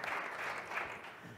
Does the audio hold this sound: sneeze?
no